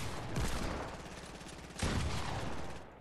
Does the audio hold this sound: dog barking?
no